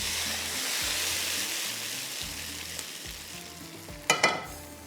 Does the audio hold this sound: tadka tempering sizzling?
yes